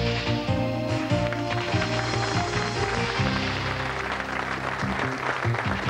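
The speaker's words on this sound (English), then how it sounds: "Give a nice round of applause" A TV game show studio audience applauds in a sustained wash of clapping, mixed with bright musical tones, close and lively with no speech over it.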